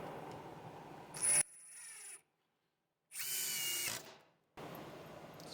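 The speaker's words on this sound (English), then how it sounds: "Now the 18-volt triple hammer." A Metabo HPT 18V triple hammer impact driver sinking #9 x 3-1/8 inch GRK R4 screws into wood, with two close, loud bursts of whirring and rapid hammering separated by silence, then a third burst starting at the end.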